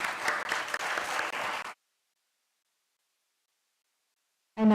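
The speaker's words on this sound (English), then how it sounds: "a big round of applause for Dr." Brisk round of clapping from an audience at a yoga university festival, lasting under two seconds before cutting to near silence, followed by a short loud sound at the end.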